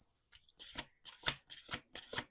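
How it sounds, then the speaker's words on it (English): Cards are shuffled in several quick riffling bursts, close and crisp, with short pauses between them. "Let's do 2 more shuffles."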